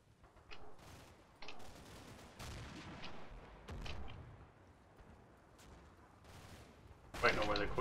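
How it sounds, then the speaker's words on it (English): Gunfire in the WWII strategy game Combat Mission: Battle for Normandy, scattered distant shots and rumbling reports with a louder crackling burst near the end, heard under a voice. "Shots, hang on."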